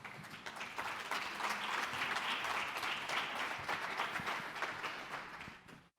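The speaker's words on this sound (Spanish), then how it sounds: "fuerte aplauso para ellos" Studio audience at a talk show on post-pandemic mental health applauding the guests, a sustained, dense round of clapping lasting several seconds before cutting off abruptly.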